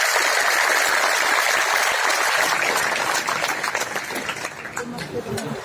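A dense crowd claps at a political rally in Bilaspur, Himachal Pradesh, with loud, steady applause that thins and fades after a few seconds while voices carry through.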